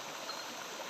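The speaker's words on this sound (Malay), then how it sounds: "Di sungai ini." A mountain river stream, habitat of Channa limbata snakehead fish, flows in a faint, steady rushing wash throughout a very short moment, with no voices.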